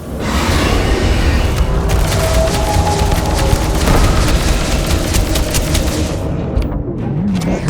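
Sustained minigun fire in Starfield during a Terrormorph invasion, a loud continuous roar of rapid shots and booms that fades out near the end.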